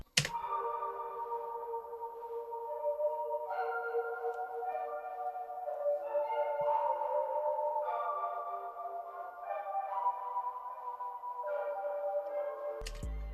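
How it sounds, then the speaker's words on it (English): A sustained ambient pad-and-key sound from a sample kit, layered with effects: soft, chord-like tones that shift every few seconds, holding steadily at a moderate level throughout. "Next, I added this pad / key."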